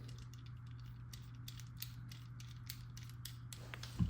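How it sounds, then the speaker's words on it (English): An M4 rivet nut threaded onto a rivet nut tool while fitting speakers in a B5 Passat door: quiet, rapid ratcheting clicks over a steady low hum, ending in a soft clunk. "Riv nut gets threaded on."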